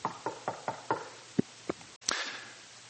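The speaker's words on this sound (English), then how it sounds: "there was a third knock on the door" Knocking on a door in a series of sharp, evenly spaced raps, about seven in all, followed by a brief louder thump or clatter at the end; close and clear, with no talk.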